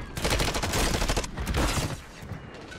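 Dense, rapid gunfire rattles out in the Call of Duty video game on Rebirth Island, a close, loud burst of overlapping shots for about two seconds before tapering into quieter scattered echoes.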